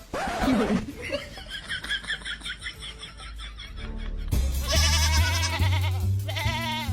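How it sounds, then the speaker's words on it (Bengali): Goat bleating in a comedy sketch, with wavering calls coming through amid chatter and background noise, growing louder and more layered toward the end. "ব্লকে ছাগল ঢুকেছে"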